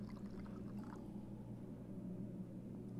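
Soft, faint trickle of water being poured in the game Syberia 2, brief liquid splashing at the start that settles into a low, quiet hum, with no talking.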